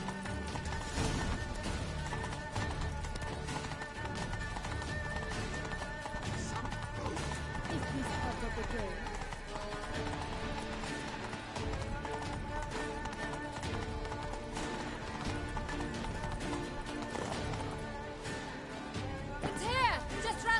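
Horse hooves gallop at a steady run in The Witcher video game, a continuous rhythmic clatter mixed under game music, wind and shouting character voices throughout.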